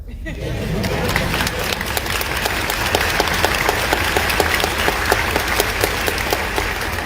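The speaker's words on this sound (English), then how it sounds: "And that's worth applauding for." A crowd at an outdoor anti-abortion rally claps loudly and steadily, with crisp individual claps standing out over a broad roar and some background chatter running through the whole stretch.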